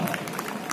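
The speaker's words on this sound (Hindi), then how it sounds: "ताली बजाना" An audience at a stand-up comedy show for a company's annual function claps in a brief burst of dense, close applause.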